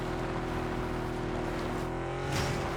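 A car engine drones steadily in PUBG Battlegrounds, a continuous loud motor hum with layered tones that shifts slightly near the end as the vehicle keeps driving.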